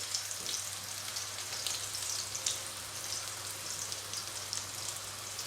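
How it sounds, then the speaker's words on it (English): A soft, steady sizzle of onions frying on a griddle, with faint crackles over a low hum. "especially the onions frying like that"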